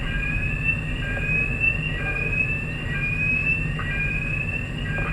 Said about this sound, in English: Turn that fucking alarm off.